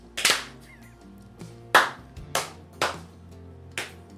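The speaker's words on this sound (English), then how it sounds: "Let's clap." Hands clap six times in a slow, uneven rhythm, each sharp crack standing alone against a quiet musical intro.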